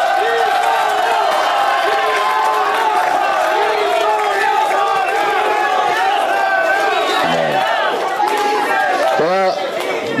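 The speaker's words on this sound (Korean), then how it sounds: "응원의 박수 한번 부탁드립니다" Crowd at a youth-pass policy meeting cheers for lawmaker Lee So-young, with loud overlapping voices, shouts and some scattered clapping forming a dense, continuous roar.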